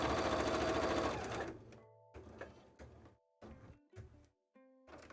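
A sewing machine stitches bias tape for a cosplay costume, running in a long steady burst and then in several short start-stop runs with mechanical whirring, close and clear.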